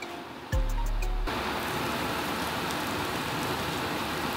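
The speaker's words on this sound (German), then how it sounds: "Heißes Wasser drüber." Hot water is poured over instant noodles: a brief low thud, then a close, constant splashing hiss of the stream that runs steadily to the end, with no talk.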